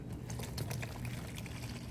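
Hot water, about four cups, poured into a detergent mixture for making bubbles, a soft steady splashing pour that runs without a break and stays fairly quiet.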